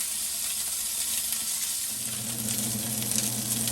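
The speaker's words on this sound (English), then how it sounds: "The sausage has started browning," Sausage browning in oil in a gumbo pot hisses and sizzles steadily, with a low bubbling layer that grows fuller partway through and no talk.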